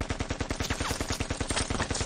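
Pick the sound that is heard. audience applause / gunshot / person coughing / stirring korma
gunshot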